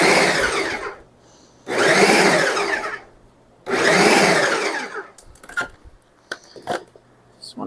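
A food processor chops salsa vegetables in three loud, even pulses of about a second each with pauses between, then a few clicks and knocks of the machine being handled.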